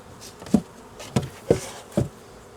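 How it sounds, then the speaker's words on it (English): Honeybees fly around newly made nucs in a soft, steady buzz, broken by four evenly spaced low knocks. "the flying bees have yet to fly off"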